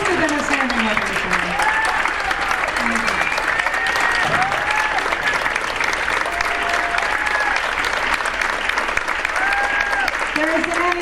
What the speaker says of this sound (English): Please give him a standing ovation for his work supporting the arts.